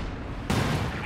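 A sudden loud impact as shots strike a Panther tank in Company of Heroes 2, a sharp burst followed by a rumbling tail over steady battlefield ambience.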